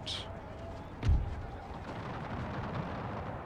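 French troops fire a musket volley in Napoleon: Total War, a single dull thump of the shots heard at a distance under a low battlefield rumble.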